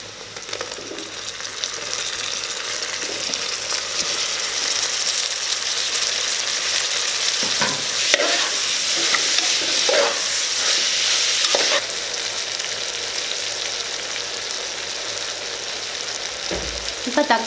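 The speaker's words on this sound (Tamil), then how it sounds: "இப்போ இது கூட நம்ம தக்காளி ஆட் பண்ணிக்கலாம்." Tomatoes and onions for Chettinad mutton biriyani fry in a pan with a continuous soft sizzle, broken by occasional scraping clicks as the mixture is stirred.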